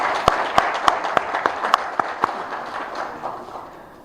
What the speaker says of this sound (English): Give a big round of applause to the DLI team.